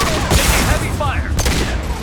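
Heavy gunfire in Mass Effect 2, a dense, loud barrage of sustained shooting and impacts with voices calling out amid the combat.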